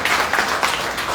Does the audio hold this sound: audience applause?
yes